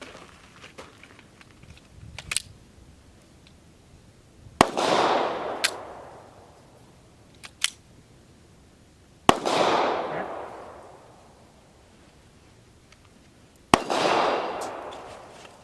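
An FMK 9C1 G2 9mm pistol firing cast bullet loads outdoors, with three sharp, loud shots spaced several seconds apart, each followed by a rolling echo and small clicks between them.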